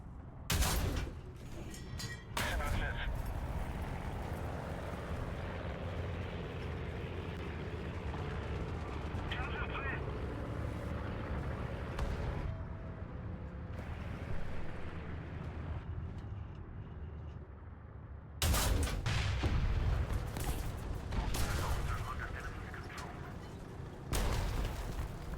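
Tank cannon fire and explosions in War Thunder: sharp loud blasts at the start and again near the end, with rumbling engine and battle noise between them, heard under continuous talking by a voice.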